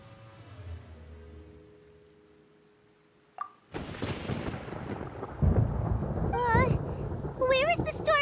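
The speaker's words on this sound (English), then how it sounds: "Paimon hears thunder!" Thunder in the video game Genshin Impact: a low rumble fades out, then a sharp crack bursts into a loud, sustained roar of storm noise, with game character voices sounding over it near the end.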